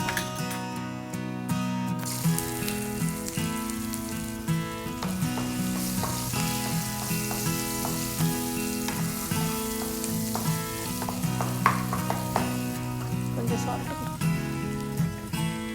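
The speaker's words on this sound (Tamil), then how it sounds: "கொஞ்சமா வெங்காயம் சீக்கிரம் வதங்கிறது." Onions sautéing with cumin, asafoetida and urad dal in a pan, a steady close sizzle of frying running throughout, with occasional stirring clinks over a constant hiss.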